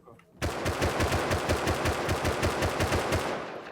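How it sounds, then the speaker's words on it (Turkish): An automated turret in the survival game Rust opens fire in a long, rapid burst of evenly spaced shots, loud and close, running steadily for about three seconds before trailing off. "Taret sıkıyor"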